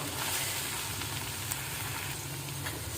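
Chili powder frying in oil in a new pan for a Kakinada-style curry: a continuous, fairly loud sizzle with a close, even hiss throughout and no talking.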